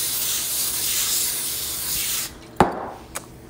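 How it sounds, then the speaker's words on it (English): A continuous hissing aerosol spray of cooking oil onto crab legs runs for a couple of seconds, then stops, followed by a sharp tap and a fainter click. "I left them sitting in there because I want to spray them."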